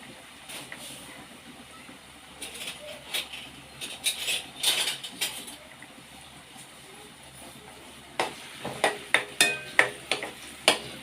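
Onions, curry leaves and salt fry in oil for a Sunday katla fish curry, a soft hiss with a burst of louder stirring and a run of rhythmic scraping clatter near the end.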